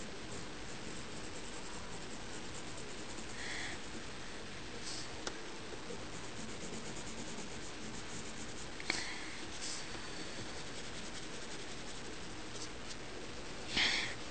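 Pencil drawing and shading on paper: a steady, close scratchy hiss of graphite strokes runs continuously, with a few faint taps and ticks scattered through.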